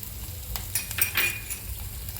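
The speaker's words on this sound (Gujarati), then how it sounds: "દસથી બાર કળી જેટલું લસણ નાખીએ એક ટીસ્પૂન ભરીને જીરું ચપટી હિંગ નાખીને સાથળી લઈએ" Garlic, cumin and a pinch of asafoetida go into hot frying oil, giving a soft close sizzle with light clinks of a spoon or utensil against the pan, and no voices.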